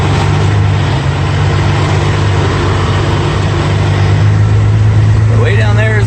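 Log truck climbing a steep switchback on a logging road, its heavy diesel engine droning loud and steady with a low throbbing hum, close inside the cab, and someone speaking briefly near the end.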